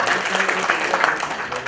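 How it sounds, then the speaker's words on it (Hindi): An audience at an Aakhar Pothi gathering in Jaipur gives welcoming applause, a steady, dense wash of many hands clapping close by that holds at an even level throughout. "बहुत तालियां के सागे आप हमारो स्वागत करा।"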